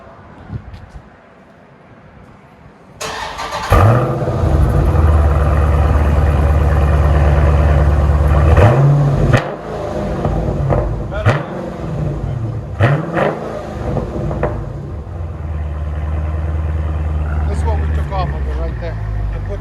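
A Dodge Challenger Scat Pack with a 6.4L engine and mid mufflers swapped for 3-inch Dynomax bullets idles quietly, then fires up into a loud, deep rumble with several revs rising and falling, while people talk near the car.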